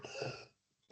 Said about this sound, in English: I've got a bit of a bad cough.